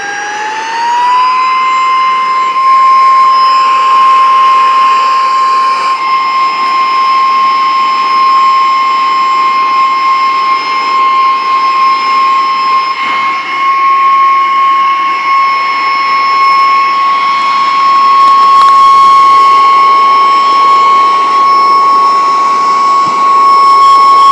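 A Saker rechargeable mini vacuum cleaner's small electric motor whirs steadily with a high-pitched whine, starting up and running continuously at constant loudness with no talking.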